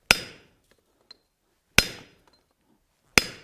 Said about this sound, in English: now we're going to go ahead and cut this bar off. Set it up here on the anvil.